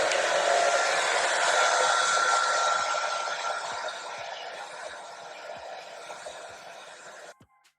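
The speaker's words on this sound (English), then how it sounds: "I'm going to take my Kiss blow dryer, and I'm going to have it on the low setting on hot." A Kiss blow dryer running on its low, hot setting gives a steady close airy whoosh that gradually fades and shifts, with faint taps along the way, before cutting off abruptly at the end.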